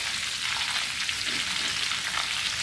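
Homemade KFC-style fried chicken pieces in a crumb coating sizzle in hot oil over high heat, a steady dense crackle held close and loud for the whole stretch, with no talking.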